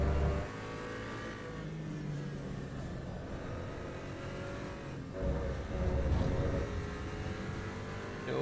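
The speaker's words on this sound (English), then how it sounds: "You've got the burble of the exhaust, the backfire, all comes from the back of the car." A car in the racing game Assetto Corsa EVO, with a faint, steady engine drone and a rumbling exhaust burble that swells midway and again near the end, plus scattered pops.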